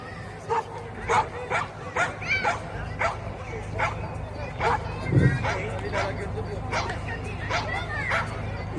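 A working dog sent to fetch a crate from a neighbour's place, an older animal, gives repeated short barks and yips at a steady rhythm, fairly close, over a murmur of background voices and outdoor noise.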